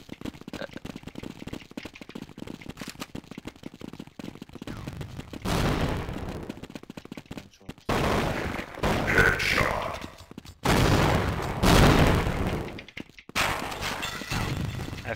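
Counter-Strike gunfire on the de_inferno map comes in loud, dense bursts of rapid shots and fusillades, broken by short pauses, with game sounds filling the gaps.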